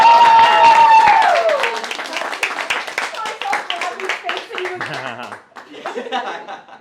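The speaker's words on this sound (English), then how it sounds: "That's a round of applause for them" An audience in a living room bursts into a round of clapping and cheering, loud at first and then tapering into scattered claps, laughter and talking.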